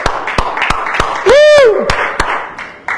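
A church congregation claps in a steady rhythm, sharp claps spaced evenly, while a single voice rises briefly in a sustained cry partway through.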